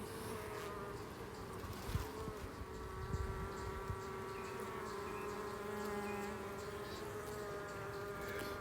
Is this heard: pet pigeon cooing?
no